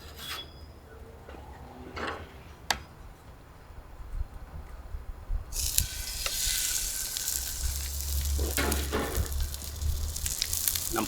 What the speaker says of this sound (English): our pan's nice and hot, so I'm going to get the turkey in